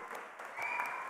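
Applause from an audience at a website launch event, a brief burst of clapping that swells and grows denser midway, with no talk over it.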